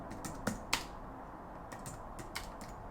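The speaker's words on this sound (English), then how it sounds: "We'll just type in Mad Van." Typing on a computer keyboard: a handful of light, scattered key clicks close by, with two sharper taps early and a quieter burst of keystrokes later, over faint room noise.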